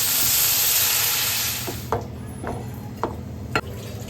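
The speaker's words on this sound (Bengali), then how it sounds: "জল দিয়ে দিই" Water hits a sizzling pan of fish curry with a loud hissing burst that fades after about a second and a half, followed by a few sharp clinks and knocks of a utensil against the pan.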